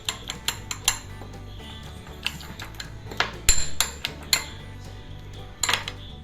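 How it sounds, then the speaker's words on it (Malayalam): Egg mixture with coconut oil and salt gets beaten in a bowl, sharp rapid metallic clinks of a utensil striking the dish in uneven bursts, close and clear with no speech. "നന്നായിട്ട് നമുക്കൊന്ന് ബീറ്റ് ചെയ്ത് കൊടുക്കാം."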